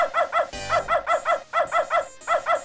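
A dog in the video game Beneath a Steel Sky barks in a rapid, steady series of short, even yaps, loud and close, with no talk over it.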